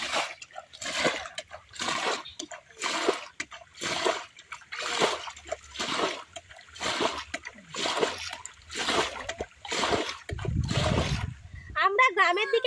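Water is scooped and thrown out by hand in a shallow pond while someone holds a net to catch fish, making close, rhythmic splashes about once a second, with a brief voice near the end.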